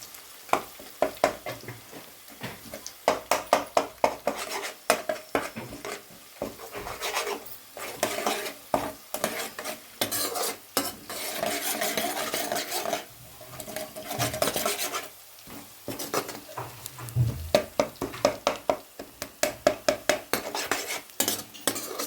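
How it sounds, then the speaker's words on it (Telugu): Onions, green chillies and ginger garlic paste being stirred in a pan for a special curry, with repeated scraping clinks of a spoon against metal over a steady sizzle, loud and close, and no talking. "అలా ఒక 2 నిమిషాలు అలా కలుపుతూనే ఉండాలి."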